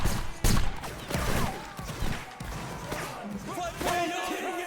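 Rifle volley fire in a 95th Rifles battle video game: several loud, close bursts of massed shots crack out at irregular intervals, mixed with game noise and distant shouting.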